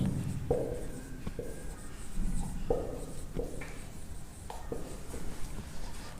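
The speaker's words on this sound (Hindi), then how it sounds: "चलिए इसी को लिखते हैं।" Chalk or marker writing on a board during a physics lecture on circular motion: short scratchy strokes in irregular bursts, close and fairly quiet, with room hiss and no talking.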